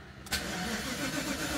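A Mercedes engine, an R129 SL500 or W124 E420 with a starting fault, briefly cranks and catches, then runs with a steady close rumble.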